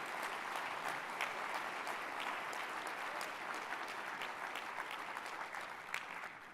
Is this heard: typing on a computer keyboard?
no